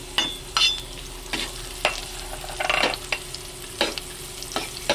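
Garlic and onion sauté in a pan for chicken liver and gizzard adobo. A steady close sizzle is broken by periodic spatula stirs and scrapes, with no talking.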